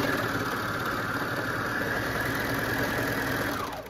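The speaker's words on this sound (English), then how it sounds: "So I'll do a flat serge stitch." A serger sewing a flat serge stitch along a costume dance skirt, running as one fast, steady, close motor whir for nearly four seconds before slowing to a stop, with no voices.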